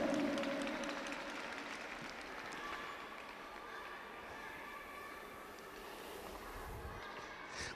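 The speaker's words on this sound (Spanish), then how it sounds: "Dale palmas a Jesús, a Él como se le merece." A church congregation claps together during an evangelical sermon in Huancavelica, Peru, a steady dense patter of many hands heard at a distance and fairly faint, with murmuring voices mixed in.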